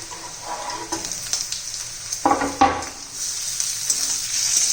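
Onion with turmeric and chili sautéing in a pan for kanda poha gives a steady, close sizzle, with a brief louder burst of stirring partway through and no talking.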